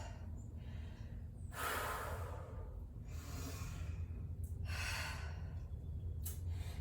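Heavy, labored breaths and gasps between sets of a home workout, several loud exhale bursts recurring over steady low background noise, close and without speech.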